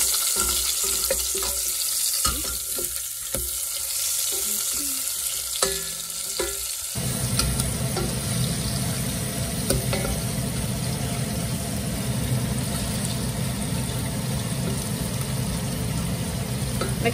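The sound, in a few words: frying Sichuan hotpot base in a pan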